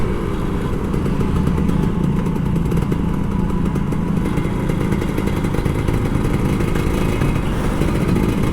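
A Kawasaki Ninja RR 150 two-stroke motorcycle ridden at night on a Jakarta street, its engine droning loud and close with a continuous raspy rattle, held at steady revs throughout.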